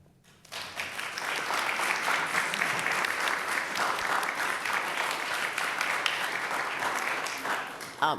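Sustained applause from a room full of people at a legislative hearing, a dense steady clapping that starts abruptly and continues for several seconds.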